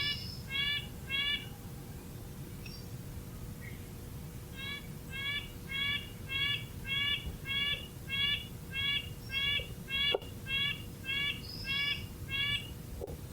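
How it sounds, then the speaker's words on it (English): A red-breasted nuthatch gives repeated nasal, tinny calls in quick bursts of short notes, clear and moderately close over a low background rumble. "The red-breasted nuthatch's call is similar, but different enough that you can differentiate between the two of them."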